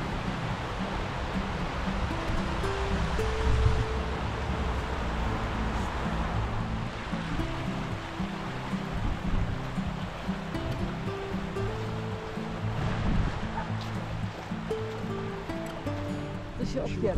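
River water rushes continuously at a bridge over the Kłodnica in Ruda Śląska, a loud, steady broadband roar filling the scene, with voices talking faintly beneath it.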